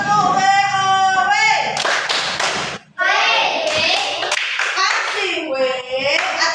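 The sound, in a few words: class doing the tepuk WOW rhythmic clap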